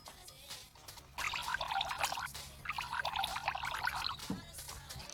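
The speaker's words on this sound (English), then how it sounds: "Pour some water into 2 identical glasses." Water pours into a glass in two bursts of bright splashing and trickling, close and fairly quiet over a faint background hum.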